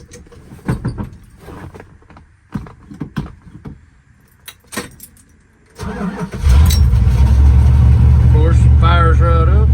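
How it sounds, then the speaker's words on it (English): A first-generation crew cab truck cranks and fires up after some handling noises and key clatter, then settles into a loud, steady idle up close, with people talking over the running engine. "Go ahead and fire it up for y'all."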